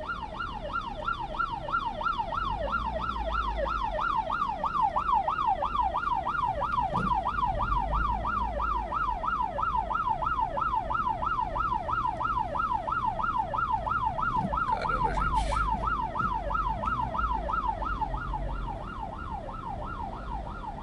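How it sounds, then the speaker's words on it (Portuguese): An ambulance siren wails steadily in a fast, regular up-and-down cycle, loud and continuous as the vehicle passes on the road, with traffic rumble underneath. "deixa a ambulância passar aqui"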